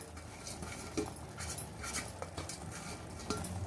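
Metal spoon scraping and clinking in a pan as ground spice mixture is stirred into a chana dal gravy, a steady close clatter with a few sharper taps, no talking.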